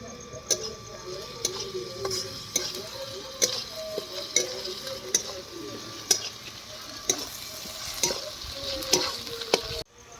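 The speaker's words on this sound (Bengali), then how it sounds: "পেঁয়াজ, রসুন, আদা হালকা ভাজা হয়ে গেছে" Onion, garlic and ginger frying in a pan give a continuous sizzle with regular, ticking stirring clicks of a spoon against the pan, close and steady throughout.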